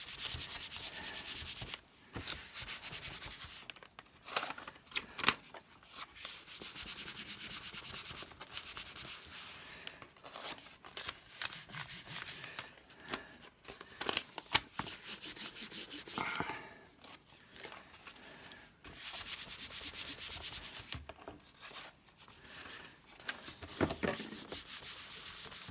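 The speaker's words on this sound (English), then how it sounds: "I'm just going to put down 2 sheets to just try and mop up some of this excess" Sheets of paper pressed and rubbed over inky book pages to blot excess ink: long, soft, continuous rubbing swishes in several stretches, separated by brief pauses and a few light taps, close and fairly quiet.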